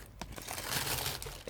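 Opening a Zombillenium gift box from a publisher with a pair of scissors, with close crinkling and tearing of packaging in short rustling bursts, no speech.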